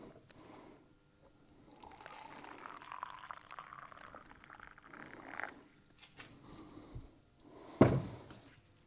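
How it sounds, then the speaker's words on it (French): Hot water pours steadily from a container for several seconds in a makeshift home lab, a soft close splashing stream followed by a brief knock as something is set down. "Donc il faut verser l'eau chaude."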